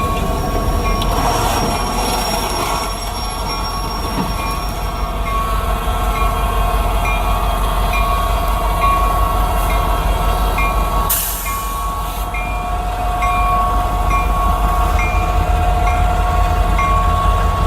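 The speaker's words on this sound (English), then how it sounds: "a Union Pacific train was heading right for them" A Union Pacific freight train rumbles past loudly and steadily, with squealing wheels and a brief horn-like tone partway through; no voices.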